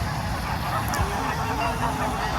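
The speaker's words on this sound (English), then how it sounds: "the geese with the orange beak" Orange-beaked geese at a busy waterside park in Cleethorpes honk clearly against dense background bird chatter and ambient noise, with a couple of distinct nearby calls.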